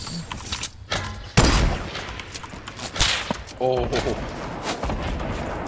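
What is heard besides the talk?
grenade launchers firing in Fortnite video game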